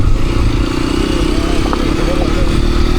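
A motorcycle engine runs with a steady, close, rumbling drone throughout on an adventurous ride to Rani Jharna (Queen Falls) in Dovan, Palpa, with light clattering over the hum.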